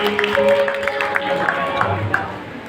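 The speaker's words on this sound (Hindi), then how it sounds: "इधर से तालियां कम बज रही हैं" Audience clapping at a children's poetry gathering (a Bal Kavi Sammelan), a steady crowd wash with scattered sharper claps, heard under ongoing talk and background hum.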